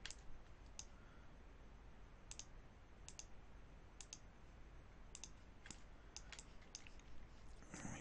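Computer mouse clicks while creasing edges in ZBrush: a dozen or so sharp, quiet clicks spaced irregularly over a faint background hiss, some in quick pairs, with no talking.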